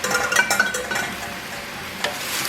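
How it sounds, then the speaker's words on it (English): Meat for Ragu alla Genovese goes into a hot pot with a brief sizzle and a few scraping, stirring sounds. Close and fairly soft, with no talk. "And I'm going to add the meat now, and then we will basically cover this and let it very, very slowly cook."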